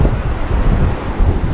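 Strong wind buffets the microphone on a North Wales surf beach in high surf, a dense continuous low rumble with gusts swelling and easing, no speech.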